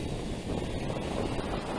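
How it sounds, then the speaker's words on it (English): Strong wind buffets the microphone outdoors during a drone flight, a steady low roar that fills the whole moment with no other sound standing out. "you can hear that wind"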